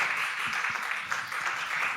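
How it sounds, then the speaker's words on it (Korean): A church youth congregation applauds during a Sunday worship service, a dense, steady patter of many hands clapping in a large room for the full stretch. "다시 한번 박수 드리면서 들어가시면 감사하겠습니다."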